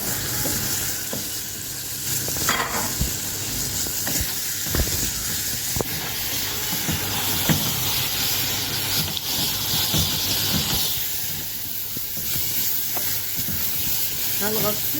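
Liver for an Egyptian-style liver with onion and tomato dish sizzles in a hot pan, a loud, steady hiss with light crackle running the whole time and small stirring knocks here and there.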